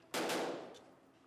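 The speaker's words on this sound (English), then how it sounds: "At various times, you'll hear a simulated sound of a gunshot." A simulated gunshot sound effect used as a cue during tourniquet practice at a youth emergency preparedness training: one loud sharp bang followed by a broad, gradually decaying reverberant tail, heard alone.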